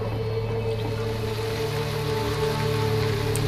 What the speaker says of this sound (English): Well, it's raining now.